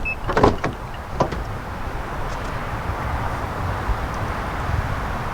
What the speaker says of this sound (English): so you're just going to press the button to unlock